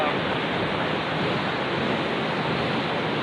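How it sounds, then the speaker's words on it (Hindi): Nurkha waterfall roars as a steady, dense wash of falling water, loud and unbroken from start to finish, with no voices over it. "ये आप यहाँ पे वाटरफॉल देख सकते हैं"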